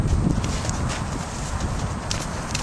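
A horse being ridden in her first saddle lifts her front end and pivots around, hooves clopping and shuffling on the ground in quick irregular steps, close by, over a rumbling low background without talk.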